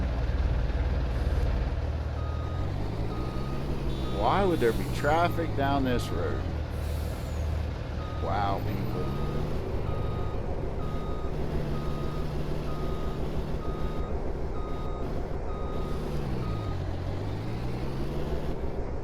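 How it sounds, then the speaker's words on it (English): Big truck reversing in the Farming Simulator 19 game, with steady beeping, a hissing air brake and a rumbling engine throughout. Someone talks over it. "Now we'll try to back this big old truck in here"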